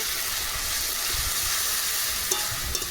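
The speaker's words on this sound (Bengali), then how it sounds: "এখন আমি এর মধ্যে দিয়ে দেবো যে মশলার পেস্টটা করে রেখেছিলাম সেটা এটাকেও খুব ভালোভাবে কষিয়ে নেব" Spice paste fries with browned onion in a pan for a Bombay duck fish dish, giving a steady close hiss and sizzle with occasional stirring clinks and no speech.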